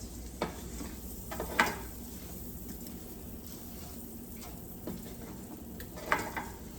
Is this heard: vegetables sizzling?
yes